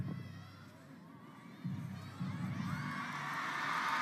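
Crowd noise in a table tennis arena before a women's singles match at China Smash, a low murmur of many voices that swells louder midway and keeps building steadily to the end.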